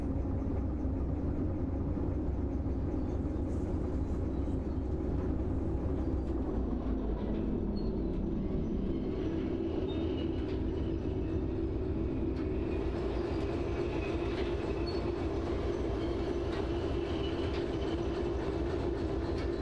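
A train consist rolls along in the PC railway game Derail Valley, a steady low rumble and rail noise continuing throughout without speech.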